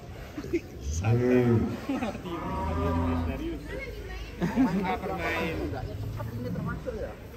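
Large cow on a farm lowing loudly near its pen, a long deep moo followed by shorter calls, with people chatting over and between the sounds.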